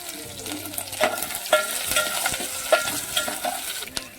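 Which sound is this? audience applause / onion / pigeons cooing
onion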